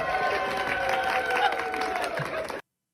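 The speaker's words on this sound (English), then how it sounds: "Did they like edit in louder applause in there?" Applause and cheering from a small crowd at a Dylan Mulvaney speech, a dense steady wash of clapping with a faint hum underneath that cuts off abruptly near the end.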